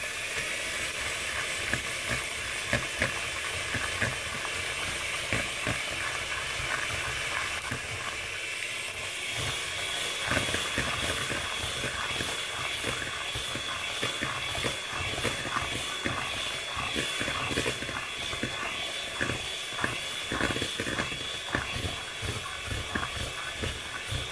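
Electric mixer whisking palm sugar cake batter at top speed, a steady dense whirring with rattling texture running continuously and fairly loud throughout, with no talking.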